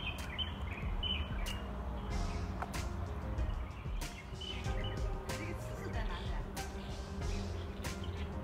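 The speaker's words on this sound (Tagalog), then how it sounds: "Ang sarap pakinggan ng mga huni ng ibon." Birds chirp in sharp, scattered calls in a park in Changzhou, fairly faint against a low background rumble of the surroundings.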